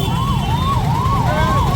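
A 108 ambulance stuck in a traffic jam at a crowded fair, its wailing siren rising and falling loudly and close over a heavy rumble of engines and crowd noise.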